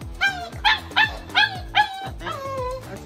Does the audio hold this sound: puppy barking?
yes